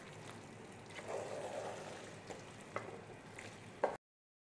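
Homestyle Kerala mutton curry simmering and being stirred in a pan, with a soft low sizzle and bubbling, faint scraping of the spoon and a few light clinks, all quiet and close.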